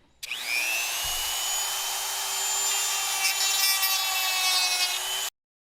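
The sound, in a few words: Dremel rotary tool trimming plastic WaveRunner housing edges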